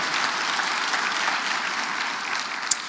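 Steady audience applause at a Clayton County State of the County address, a dense even wash of clapping that holds for about three seconds with a brief sharp clack near the end and no talking.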